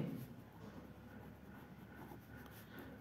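A pen scratches steadily across paper while a subtraction sum is written out, a faint continuous rasp in a quiet room.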